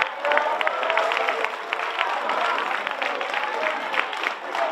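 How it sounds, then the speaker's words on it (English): An audience at a town hall meeting for the ECOWAS Parliament applauds in a steady round of clapping with some crowd noise and voices mixed in. "Give a round of applause to yourself."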